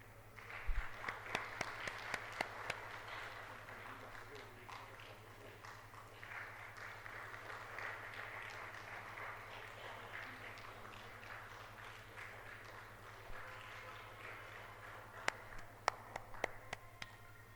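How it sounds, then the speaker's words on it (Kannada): Audience clapping at a Shiva Jayanthi celebration, faint and distant, a sparse patter of claps that thickens into a brief scattered burst toward the end over low room hum. "ಎಲ್ಲರೂ ಜೋರಾಗಿ ಚಪ್ಪಾಳೆ"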